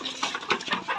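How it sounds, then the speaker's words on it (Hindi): Chickens clucking and squawking loudly at close range, a dense overlapping chorus of flock calls from hens eager to be fed chopped garlic pieces. "मुर्गियां बहुत शोर कर रही हैं कि हमें जल्दी से खिला दो बस"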